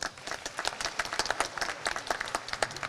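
Audience applause for the Suzuki researchers at the launch event for the fourth-generation Suzuki Swift: a steady patter of many hands clapping, with sharp individual claps standing out as it rises slightly toward the end.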